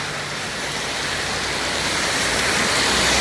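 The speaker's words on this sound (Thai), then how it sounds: "ฝนตกครับตอนนี้" Rain falls steadily outdoors, a dense, loud hiss of drops that grows slightly stronger and never lets up.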